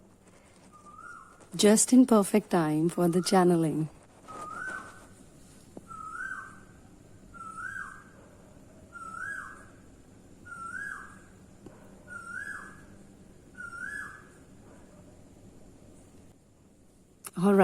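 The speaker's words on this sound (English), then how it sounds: "as you can hear, we have the beautiful cuckoo bird" A cuckoo calls repeatedly outdoors, its clear two-note cry sounding about every second and a half at a moderate distance, after someone speaks briefly at the start.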